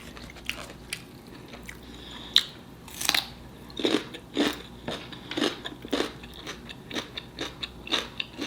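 Biting and chewing homemade chicken bacon ranch tacos, close crunchy bites followed by a steady series of moist, crisp chewing sounds in an irregular rhythm, with no talking.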